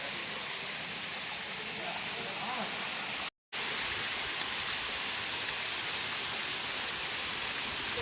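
Waterfall at Chakratirtha in Keonjhar, Odisha: a loud, steady rush of falling water, broadband and unbroken apart from a brief dropout, heard close with no distinct events on top.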